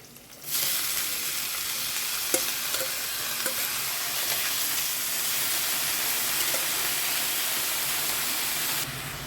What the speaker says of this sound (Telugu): ఉల్లిపాయ కొంచెం ఫ్రై అయిందండి ఇప్పుడు క్యాబేజ్ కూడా వేసేస్తున్నాను